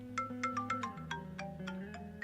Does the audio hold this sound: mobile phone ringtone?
yes